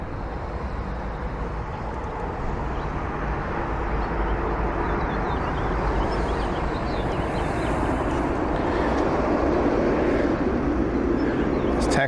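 An airplane taxiing fast at CMH airport makes a steady, broad roar that swells slightly over time, with voices talking over it.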